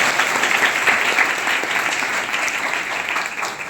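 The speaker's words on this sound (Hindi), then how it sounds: "एक बार अपने लिए जोरदार तालियों से" A crowd at a girls' education event breaks into loud, sustained clapping that stays thick and even before easing slightly, with no speech heard over it.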